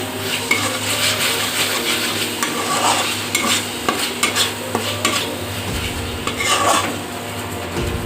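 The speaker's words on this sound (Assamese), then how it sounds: "এতিয়া মছলাখিনি মই ভাজি আছোঁ" Spice masala fries in oil in a pan for a parwal curry, a steady close sizzle broken by repeated scraping and knocking of a spatula against the metal pan, with no talking.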